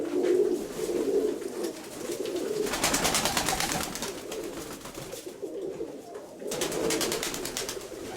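Pigeons coo in soft repeated phrases close by, a low rolling call returning several times amid faint background hiss.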